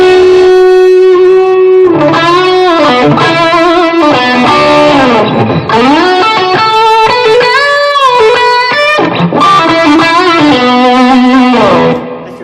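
Loud electric guitar rings out through a Blackstar amp, sustained chords and bends washed in heavy reverb, playing continuously with no voices.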